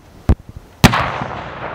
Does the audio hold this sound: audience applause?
no